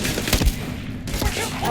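Gunfire from a firefight in Starfield Shattered Space: a quick volley of close, punchy shots and rattling bursts, loud against ongoing combat noise.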